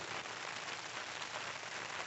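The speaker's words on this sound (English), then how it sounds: "Look at all that water running off of the" Rain running off a campsite tarp on a cold, rainy day makes a dense, steady patter and splash, constant and fairly close with no voices.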